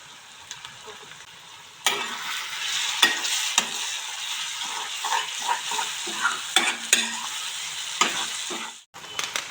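Ginger garlic paste with turmeric powder sizzles in a pan while being stirred, a steady frying hiss broken by frequent scraping strokes of the spoon, close and clear, with no voices.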